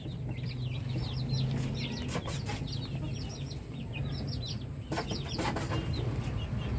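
Native chickens cluck and chirp alongside their chicks, a busy mix of repeated short peeping calls and low clucks from several birds close by, continuing steadily throughout.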